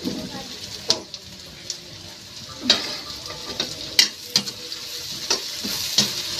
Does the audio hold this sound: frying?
yes